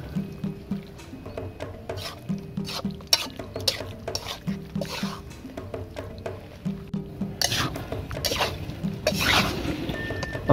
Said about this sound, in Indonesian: kita aduk-aduk lagi